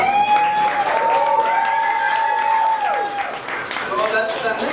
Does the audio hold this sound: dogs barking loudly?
no